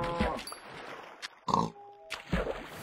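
Pig grunts from the Minecraft video game come in a few short, separated bursts among light game sound effects and a brief tone, moderately loud and close.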